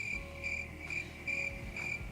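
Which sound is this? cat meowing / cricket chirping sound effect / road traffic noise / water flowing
cricket chirping sound effect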